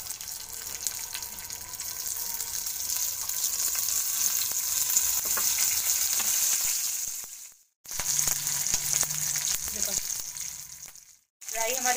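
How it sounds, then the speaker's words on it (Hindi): Mustard seeds and curry leaves sizzle and crackle in hot oil for a tadka while making dhokla, a steady close frying hiss broken by two brief silent gaps, with no talking over it. "और राई का फोड़न लगाएंगे।"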